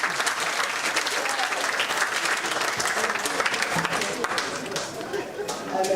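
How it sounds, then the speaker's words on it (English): An outdoor crowd at a housing handover ceremony applauds steadily and loudly, with dense clapping that carries on throughout, mixed with cheering and chatter from the gathered people. "Let's give them a round of applause."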